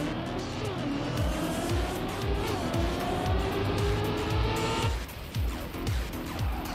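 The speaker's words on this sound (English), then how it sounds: "I'm gonna hit the brakes there a little bit" Race car in the TrackMania video game braking hard into a turn on a casino-themed track, engine roaring with repeated sharp tire squeals and skids, loud and continuous.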